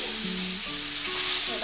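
Sliced zucchini sizzles steadily in a hot frying pan as it is stirred, a close, continuous crackle with soft scraping and no voices.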